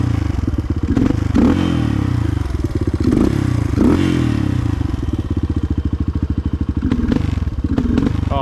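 A Suzuki DR 200 motorcycle fitted with a new carburetor runs close by with a steady, loud chugging idle, broken by a few rougher stumbles where the engine bogs.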